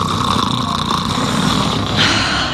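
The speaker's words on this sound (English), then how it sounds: "His snoring keeps me up all night." A man snores in a bedroom scene from a Z Quiet commercial, a loud, rasping, continuous drone up close with no talking over it.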